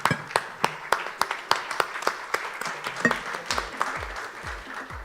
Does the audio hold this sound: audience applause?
yes